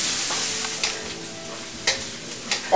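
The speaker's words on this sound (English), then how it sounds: "so we'll just keep stir frying it." Steady sizzling of onions frying in a hot pan, with a few sharp scrapes and clacks as they are stirred.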